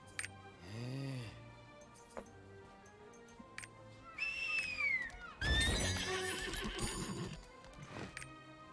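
A mount in the video game Lost Ark whinnies loudly near the start, then hooves clip-clop along with snorts and other game effects, ending in a burst of louder activity.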